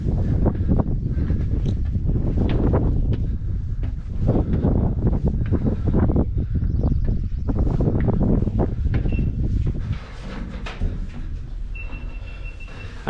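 Strong gusting wind on the summit of Stratton Mountain roars and buffets the microphone throughout, loud and rumbling, easing slightly toward the end.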